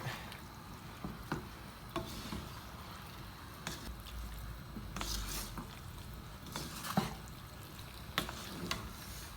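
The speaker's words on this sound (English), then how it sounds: "Now we'll just mix that all through." Cream being stirred by hand through a thick cobia fish pie mix with potatoes and cheese, soft wet squishing and scraping strokes at an uneven pace, close and fairly quiet, with no talking.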